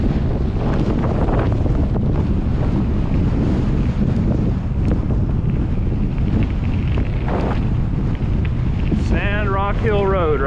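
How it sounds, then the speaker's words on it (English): Loud, constant wind buffeting the microphone while cycling a long gravel route into a south headwind, roaring throughout, with a voice speaking briefly under it. "Heading south into the south wind."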